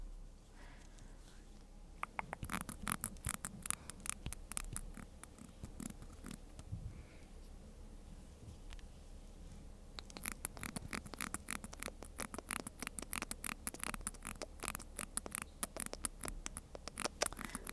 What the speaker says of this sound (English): I'm just gonna thread it a little bit.